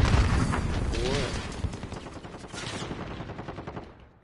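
Rapid gunfire cracks out in a PS4 shooter, a dense burst of shots at the start that thins into scattered pops and fades away, with a player's voice talking over the action.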